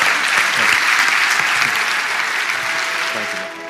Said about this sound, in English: Everybody please give Jack and Aisha a big round of applause.